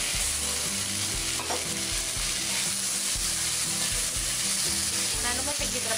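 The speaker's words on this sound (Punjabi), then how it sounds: "ਮੈਂ ਇਹਦੇ ਚ ਟਮਾਟਰ ਐਡ ਕਰਾਂਗੀ ਜਿਹੜਾ ਇੱਕ ਟਮਾਟਰ ਆਪਾਂ ਬਰੀਕ ਬਰੀਕ ਕੱਟ ਕਰ" Finely chopped tomato frying with browned onions for arbi masala, a loud continuous sizzle close up with rhythmic stirring and spoon scrapes against the pan; no voices.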